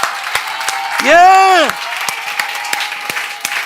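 A church congregation bursts into applause during a Korean Sunday sermon, a short warm wave of clapping under a loud sung or shouted voice, with a preacher's speech before and after.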